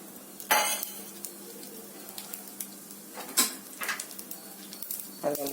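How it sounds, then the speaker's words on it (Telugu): Mustard seeds spluttering in hot oil in a pan for a tamarind curry, sharp crackling pops and bursts at scattered intervals over a soft steady sizzle, with occasional clinks of utensils. "ఆవాలు చెట్పట్లాడుతున్నాయి ఆవాలు వేగిపోయాయి"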